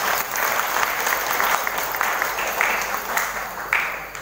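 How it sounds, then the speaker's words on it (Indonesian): Audience applause fills a school pavilion at SMP Negeri 1 Wonogiri during a ceremony honouring high-achieving students, a steady dense clapping that holds fairly loud throughout without a break. "Tepuk tangannya untuk kita semuanya."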